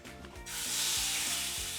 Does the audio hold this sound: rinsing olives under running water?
no